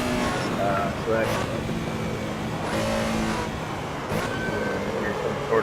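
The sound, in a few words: Porsche 911 Carrera RSR 3.0 engine and brakes in cockpit, Assetto Corsa video game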